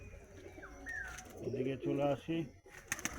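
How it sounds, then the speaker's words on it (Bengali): Andhra and Madrasi high-flying pigeons in a breeding loft give soft, low cooing nearby, a few rolling coos mixed in with someone talking. "খুবই ভালো আছে পায়রাগুলো।"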